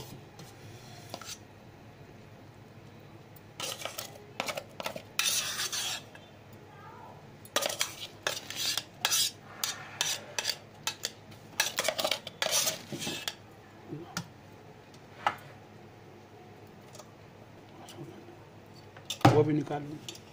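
Steel pots clank and a spoon scrapes as cooked rice is scooped from the inner pot of a Panasonic SR-WA10 automatic rice cooker into another pot; there are irregular close metallic clinks and scrapes in bursts, with brief talk between them.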